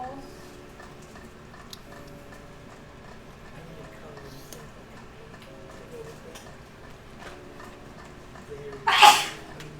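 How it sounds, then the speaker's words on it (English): One short, sharp sneeze bursts out near the end, close and loud, after a stretch of quiet room noise with faint ticking and soft music during a painting session. "I hadn't sneezed for a whole week."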